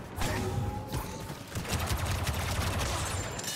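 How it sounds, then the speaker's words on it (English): Rapid hip-fire blaster gunfire from Captain Phasma in the video game Star Wars Battlefront 2, a dense continuous burst of shots with crashes under busy battle noise, no talk. "Her hip fire is amazing."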